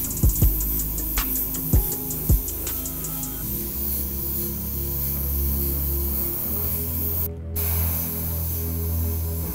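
An airbrush sprays light coats of paint onto a sneaker tongue, a steady close hiss and hum with a few sharp clicks near the start.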